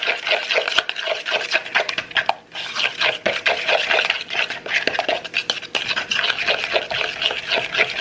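Ingredients and a pinch of salt being combined in a mixing bowl make a steady run of close scraping, tapping and stirring, with a brief pause partway through and no talking.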